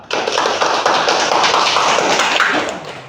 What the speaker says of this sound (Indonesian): kita berikan aplaus untuk teman kita Lala dan kawan-kawan.